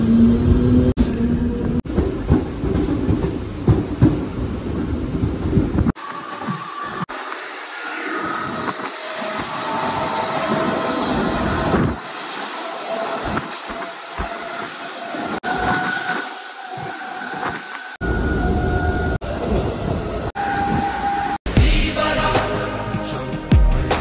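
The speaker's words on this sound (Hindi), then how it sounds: "ट्रेन चल पड़ी है भाई।" A commuter train in Mumbai runs along the tracks, with a continuous rumbling roar, rattling carriages and occasional clicks and screeches that rise and fall, loud and close throughout.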